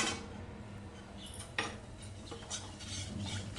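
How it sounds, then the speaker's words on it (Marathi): A spoon stirs spice tempering in a pan with the gas turned off while making chivda masala for poha chivda, producing faint scrapes and light metal clinks with one sharper knock. "गॅस बंद केल्यानंतर थोडीशी आपण अशी फोडणी हलवून घेऊया"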